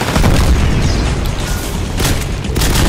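Satchel charge explosion in Titanfall multiplayer attrition combat: a loud, broad boom that fills the whole clip, with a second blast swelling near the end amid dense battle noise.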